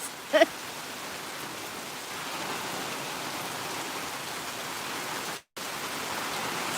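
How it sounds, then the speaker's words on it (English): Steady, soft hiss of rain from Hurricane Zeta falling all around a porch, constant and even, with a brief knock near the start. "Just chilling out in the rain."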